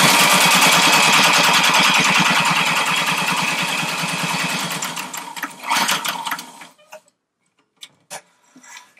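Sewing machine stitches a dining chair slipcover with a ruffle or pleated skirt, a loud steady rapid rattle for about six seconds, then slowing into short separate bursts and stops as it works through bulky fabric.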